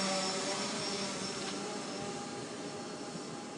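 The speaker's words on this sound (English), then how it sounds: "So let's fire up the motors." Electric motors of a DJI Phantom 3 Standard quadcopter drone whirring at start-up, a thin, steady high-pitched buzz heard close by and fairly faint, with no talking.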